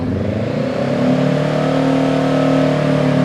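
A 2018 Honda Rebel 500 motorcycle with an aftermarket exhaust idles close up, then revs and holds a raised, steady engine drone with a strong low hum, loud and alone with no talking.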